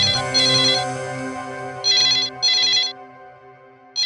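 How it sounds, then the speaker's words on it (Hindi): A phone rings in bursts of bright electronic trilling over a sustained musical tone, three rings with short gaps between. "शायद किडनैपर का फोन होगा।"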